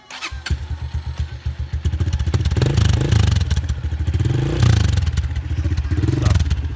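A Honda motorcycle engine starts with a few choppy cranking pulses, then catches and runs loud and close with a rough, rapid throb and brief revs, with a faint clatter at a forest campsite.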